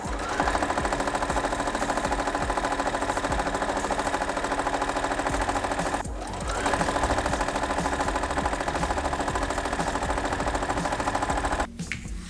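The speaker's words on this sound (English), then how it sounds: "we are going to sew twice, once on each side of our line using a 1/4 inch foot" Sewing machine stitching quilt block seams with a quarter-inch foot runs in a steady, loud, fast whir, pausing briefly midway and again near the end, with no talking.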